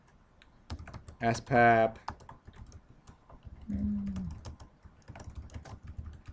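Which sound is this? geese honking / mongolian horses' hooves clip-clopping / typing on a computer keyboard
typing on a computer keyboard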